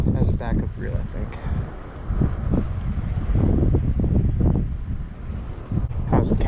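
Strong wind buffeting the microphone outdoors while a baitcaster fishing reel is being cast, a steady loud rumbling gust that rises and falls throughout, with people talking over it.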